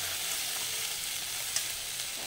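Spices and masala sauté in oil with a splash of water, making a continuous close hiss and crackle with one small pop and no voices.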